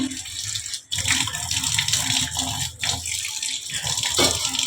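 Water runs steadily from a tap while a washbasin is being cleaned, a continuous close splashing flow with brief dips as hands or a container interrupt the stream.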